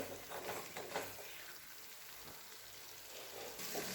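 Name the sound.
sautéing sesame and coconut masala in oil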